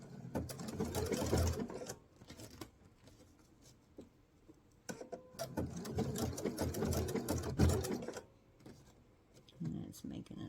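A sewing machine stitching in reverse over a vinyl travel pouch, running in two rapid mechanical bursts of several seconds each with a brief pause between, close up, while a person talks.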